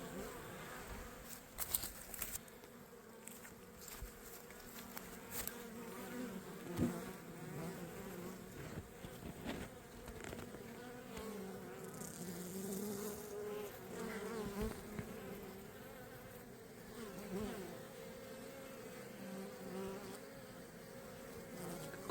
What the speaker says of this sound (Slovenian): Kako čebele čistijo eno drugo.